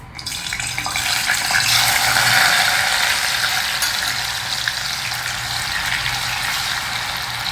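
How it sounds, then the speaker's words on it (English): Steady crackling sizzle of yam deep frying in hot oil, continuous and fairly loud with no talking. "Now we'll deep fry this drained yam in batches."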